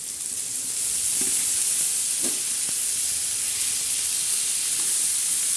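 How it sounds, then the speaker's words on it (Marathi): A foraged wild vegetable sautés in a pan with onion, giving a loud, continuous hissing sizzle broken by a few soft clatters as it is stirred. "आता मस्तपैकी अशी भाजी आपण हलवून घेणार आहोत आपण परतून घेणार आहोत"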